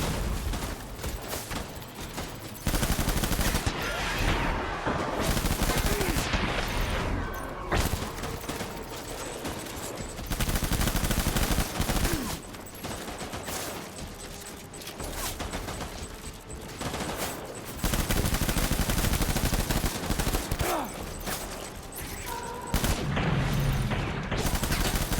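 Dense, continuous gunfire rages through a firefight in the video game Death Stranding, with rapid machine-gun bursts and heavy booms layered almost without pause, loud and close throughout.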